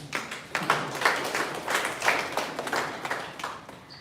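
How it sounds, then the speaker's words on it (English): Applause from an audience, a steady wash of many hands clapping at moderate volume for several seconds, with no voices standing out. "Please clap for that."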